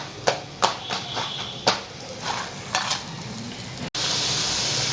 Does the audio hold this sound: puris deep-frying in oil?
yes